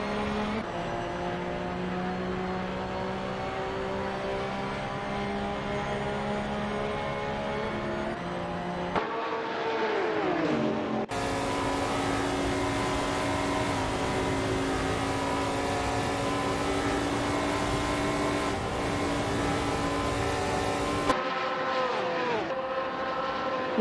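GTS-class race cars lap Daytona in a racing video game, with sustained engine drones rising and falling through gear changes and several cars layered together, a steady, loud mechanical roar throughout with no speech.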